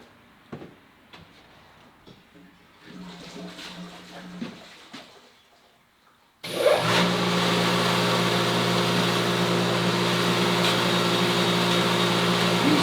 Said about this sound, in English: We'll pump 100 gallons in there in a matter of 10 or 15 seconds.